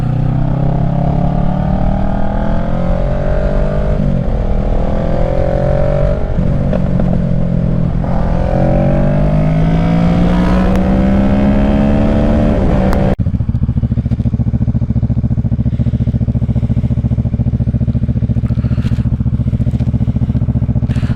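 A Kawasaki EX 650 (ER6F) sport motorcycle engine revs and rises in pitch while riding, then shifts to a steady, lower drone with wind rumble for the remainder.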